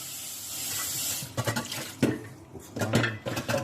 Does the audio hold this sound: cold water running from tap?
yes